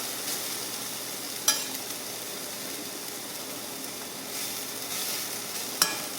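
Onions frying in a pan give a soft, steady sizzle with faint stirring, two brief sharp clicks of the utensil against the pan, fairly quiet and with no talking.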